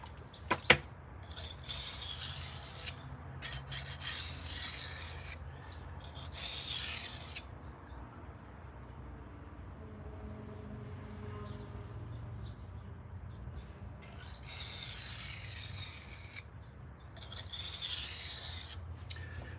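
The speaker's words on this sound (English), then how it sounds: "We got to do a couple burr removal passes." A knife blade gets burr removal passes during sharpening, producing repeated soft raspy strokes in bursts of a second or two, separated by quieter gaps over a low, steady background hum.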